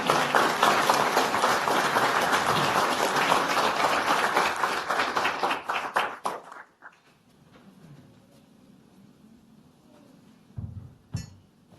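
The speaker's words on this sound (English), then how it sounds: "Let's give her a round of applause." Applause from the audience at a board of supervisors meeting, dense steady clapping for about six seconds that tapers off, followed by quiet room noise and a couple of soft knocks.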